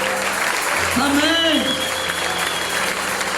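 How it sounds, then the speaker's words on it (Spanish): A church congregation applauds in a steady wash of clapping while a man calls out over it and sustained organ or keyboard notes ring beneath. "¿Cuántos dan un fuerte aplauso al Rey?"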